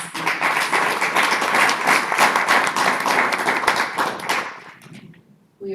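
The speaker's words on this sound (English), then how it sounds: "I would like to invite us to give another hand of applause for all of the speakers" An audience at a panel of speakers applauds with dense, sustained clapping, close and steady, fading out near the end.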